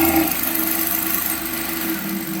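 A Singer 9900 sewing machine runs slowly while stitching, giving a steady, close motor whir with faint rhythmic ticking of the needle throughout.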